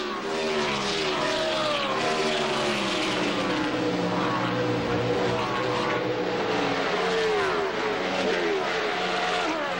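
NASCAR Winston Cup stock cars racing on the Watkins Glen International road course, a loud continuous roar of engines with shifting pitch as the cars pass, heard without talk.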